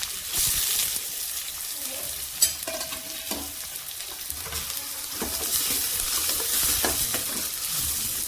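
Finely chopped onion sizzles in hot oil with cumin seeds for dhaba-style whole masoor dal, a steady close frying hiss with occasional stirring scrapes and one sharp clink, a voice faintly talking underneath.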